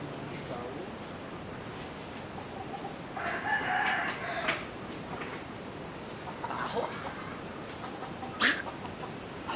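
Chickens cluck and a rooster crows nearby over a low background hiss, with faint human voices mixed in; one chicken is sick with a cold.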